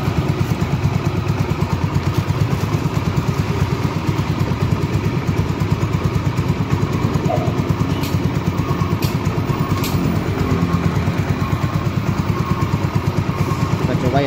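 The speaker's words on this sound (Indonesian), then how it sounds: "Motornya sudah hidup, kemudian kita tes saja ya untuk bagian voltasenya." Yamaha Xeon RC motorcycle engine idling steadily with a continuous low, even rumble and a faint clatter, close by, running through the whole stretch with no talk over it.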